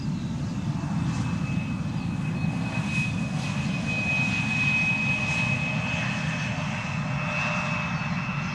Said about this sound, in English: The Embraer 175 in the foreground, arriving from Bristol.